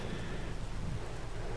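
Steady, moderately quiet rain hisses across a farm in the video game Farming Simulator 22, with a low rumble beneath it and no talking.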